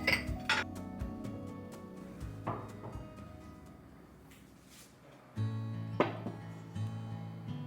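A Carrot brand 24 cm granite non-stick kadai and sauce pot with a glass lid are handled, producing a few close, sharp clinks and knocks of cookware with quiet pauses between.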